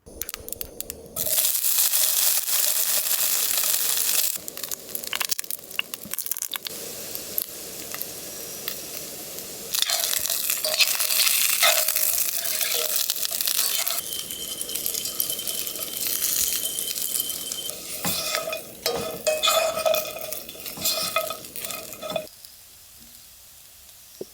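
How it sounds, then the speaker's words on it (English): Yams and Brussels sprouts frying in a pan with salt, a bright, steady sizzle that swells and fades as the food is moved, with occasional scrapes and clinks, quieting near the end. "And then I fried some yams and Brussels sprouts seasoned with salt"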